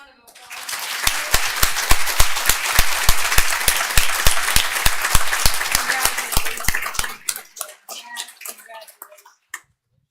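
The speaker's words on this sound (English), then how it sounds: "One more round of applause." Clapping for a student at a school board meeting, sharp individual claps close by over a lively crowd round of applause that dies away after about seven seconds, leaving a few scattered claps.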